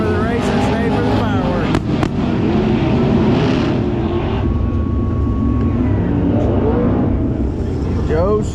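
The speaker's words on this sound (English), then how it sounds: "I didn't realize we were having an all-out fireworks show." Fireworks pop and crackle at a distance over a constant wash of background noise while people talk nearby, at a race track.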